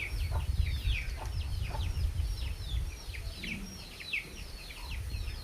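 A country fighting rooster on a farm clucks in quick, repeated bursts at close range, with low rumbling background noise throughout.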